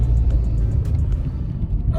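A 2006 Ford Escape Hybrid being moved gives a low, steady engine rumble close by with faint road noise, no voices.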